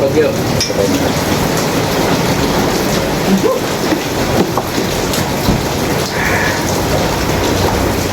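Steady, dense rain during a storm hisses continuously at a loud level, forming a constant wash of drops with no breaks.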